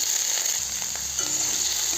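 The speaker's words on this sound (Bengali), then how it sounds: "এখন আমি কড়াইয়ে হালকা তেল দিয়ে দিলাম। পেঁয়াজ কুচি, টমেটো কুচি আর রসুন কুচিটা দিয়ে দিলাম।" Chopped onion, tomato and garlic frying in a little oil in a wok, giving a continuous bright hiss with a few faint stirring clicks, close and steady.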